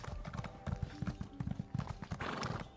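Horses in a stable in The Elder Scrolls Online clop with steady hooves over a muffled bed of movement, and a whinny rises near the end; the hoofbeats sound fairly close.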